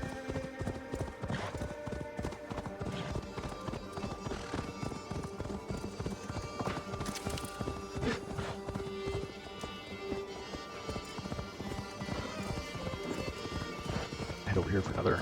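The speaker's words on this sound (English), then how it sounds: "When you're riding your horses across the country here" Horses clip-clopping at a run in the video game Assassin's Creed Valhalla, a steady galloping hoof rhythm with an occasional whinny, under someone talking over game music.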